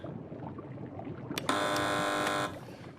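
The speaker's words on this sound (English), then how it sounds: "Fingers on buzzers, teams." A single loud electronic game show buzzer blares for about a second, cutting sharply through a noisy background of murmuring studio voices.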